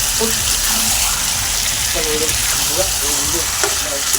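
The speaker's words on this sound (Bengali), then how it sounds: "ভালো করে চলো কষিয়ে নিই মাংসের পিসগুলো" Large pieces of meat for biryani sauté in a pan with a loud, constant close sizzle, while a voice talks over the frying and occasional stirring scrapes sound through.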